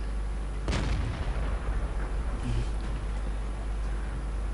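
Tank cannon fire in a tank battle video game, one sudden loud boom over a steady dense background of engine and battle noise.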